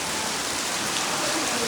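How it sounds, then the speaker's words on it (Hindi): Heavy rain pours down steadily on a rooftop area during a monsoon downpour, a dense continuous hiss of drops drumming on surfaces, fairly close and loud throughout with no voices. "फिर से ना बारिश होने लग गई भाई"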